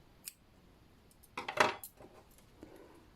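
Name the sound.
scissors cutting crochet yarn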